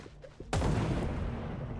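A single sudden, loud explosion bursts after a quiet moment in the video game Dead Island 2, its rumbling blast lingering and slowly fading.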